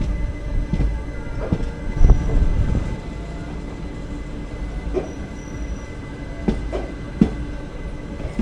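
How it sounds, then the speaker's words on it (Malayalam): The Summer Special Express pulling into Tenkasi station, a low steady rumble of rolling carriages with irregular clicks and clanks of wheels over rail joints, heard from on board. "അപ്പോൾ നമ്മൾ ജസ്റ്റ് തെങ്കാശി സ്റ്റേഷനിലോട്ട് കയറുന്നു"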